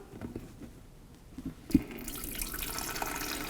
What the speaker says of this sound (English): let's point this into a bucket and get the water turned on